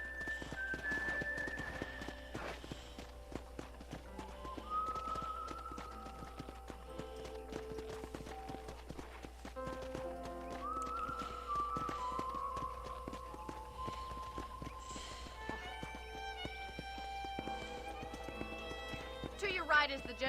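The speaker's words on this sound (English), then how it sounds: "let's see if you can still ride a horse" Horse hooves clip-clop steadily during a ride in Red Dead Redemption, with a soft rhythmic gait under game music and effects.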